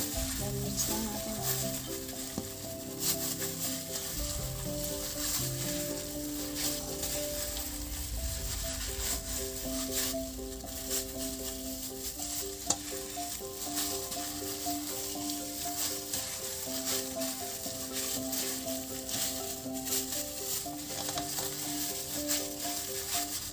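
Pepper and other ingredients hiss and crackle in a hot pan at a low, constant level, with soft stirring scrapes mixed in and a faint tonal hum underneath, no voices present.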